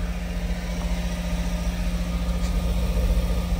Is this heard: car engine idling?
yes